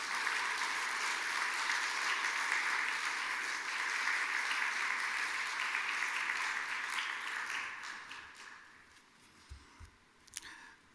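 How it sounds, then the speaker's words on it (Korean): A church congregation at a Sunday worship service applauds to welcome the pastor, a dense, steady wash of clapping that thins out and fades into a few scattered claps. "우리 목사님을 환영하는 박수로 하나님 앞에 영광 돌리겠습니다."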